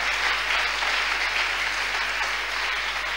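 A church congregation applauds and cheers for the Lord, sustained loud clapping and shouting from a crowd that holds steady throughout without a break.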